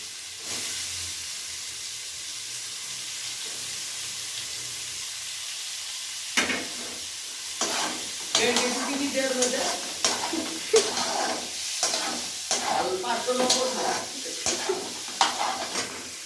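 Chopped onion and tomato sizzle in a pan at a small picnic, with a steady hissing fry broken by stirring scrapes and clatter in the second half. No one speaks.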